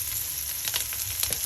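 Garlic and onion frying in a pan for laing produce a loud, close, constant sizzle with brief stirring scrapes throughout.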